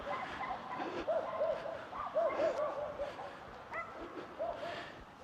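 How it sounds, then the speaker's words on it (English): Several dogs bark and yip again and again in a suburban neighbourhood, a little distant and fairly steady, with faint outdoor background noise. "The sounds of suburbia. Dogs, lawnmowers and whippersnippers."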